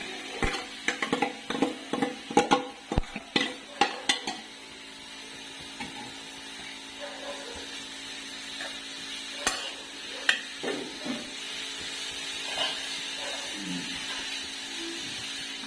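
Grated beetroot sautéing in ghee in a pan, opening with a quick series of sharp scraping and tapping stirs, then a softer steady sizzle with occasional spoon knocks, close and fairly quiet.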